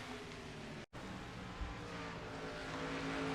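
Stock cars race at Riverside in a racing video game, their engines a steady, droning roar that continues with a brief dropout near the start.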